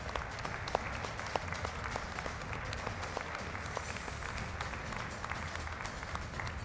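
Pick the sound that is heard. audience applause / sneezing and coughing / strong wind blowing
audience applause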